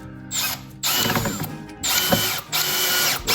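A power drill drives screws through pre-drilled pilot holes into a wooden drawer front, giving several close, loud whirring bursts with short pauses between them as the screws bite and seat.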